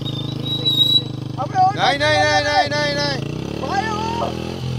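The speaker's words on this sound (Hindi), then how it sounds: "और हमारी बाइक फंसते फंसते रह गई है इस नदी में।" A motorcycle engine revs and strains nearby with rising and falling pitch as it crosses a river at night, nearly getting stuck, while water churns and a voice speaks over the loud, continuous din.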